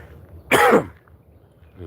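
A single harsh cough or throat-clearing burst, close and loud, surrounded by near silence with faint low background.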